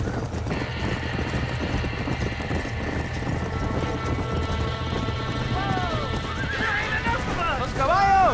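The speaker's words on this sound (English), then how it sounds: "Los caballos!" Frightened horses whinny and neigh shrilly during a barn fire in the Red Dead Redemption video game. Several sharp calls rise over a steady rumble and hoof clatter, and a voice talks through it.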